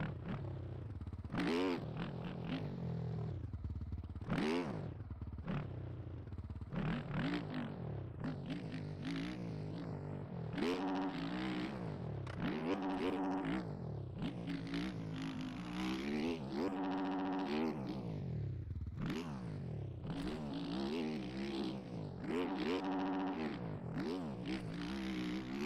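Motorcycle engine held at full throttle in a racing video game, a constant high wail rising and falling through gear shifts and corners for the whole stretch, with talking over it.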